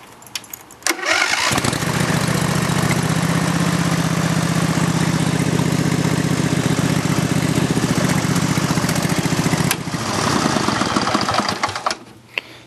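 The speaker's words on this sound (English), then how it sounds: "The motor still runs. I'll show you." A Kubota tractor engine cranks over, catches, then runs and idles steadily and loudly at close range with a fast even chug, before cutting out near the end.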